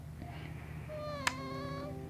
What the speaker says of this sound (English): But he's a little cat